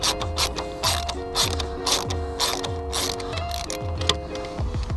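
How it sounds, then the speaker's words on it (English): A ratcheting screwdriver loosens a grill bolt on a BMW E30 with close, steady rapid clicking that repeats in short strokes about twice a second, with no voices. "I just got a screwdriver and you grab that bolt right there and loosen her up."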